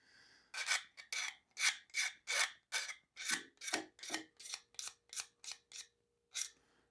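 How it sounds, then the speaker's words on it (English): A knife blade dragged across a sheet of ABS plastic made from pipe, scraping off bandsaw machining marks in about fifteen short, sharp, rasping strokes in a quick steady rhythm, close and clear against an otherwise quiet background. "I'm just going to drag the knife on here quick, take a lot of those machining marks off from the bandsaw"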